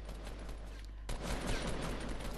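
Fortnite gunfire in a solo match, a dense burst of shots erupting partway through after a quieter stretch, then continuing as a sustained rattle over low game ambience.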